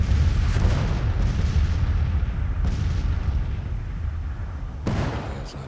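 Artillery fire in Grand Tactician: The Civil War, a continuous low rumble of distant cannon with a few sharper booms standing out, steady and moderately loud.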